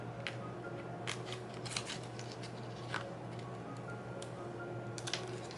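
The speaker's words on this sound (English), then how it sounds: "So I'm gonna have to peel this up a little bit to get this under here" A printable planner sticker is peeled up from a page in a series of faint, close crinkling and papery crackles, with short sharp ticks scattered irregularly over a quiet room hum.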